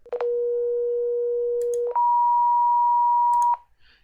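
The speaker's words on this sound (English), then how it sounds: "Let's go back to a sine wave and then rectify it." A pure sine tone plays in a Falstad circuit simulator and then switches to a full-wave rectified version. The tone jumps noticeably higher and buzzier, and both steady tones are clean and loud with clicks at the transitions.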